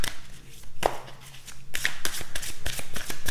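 Tarot cards sliding and flicking against one another as one is drawn from the deck, with a few sharp papery snaps and soft rustles, close and fairly quiet, no talking.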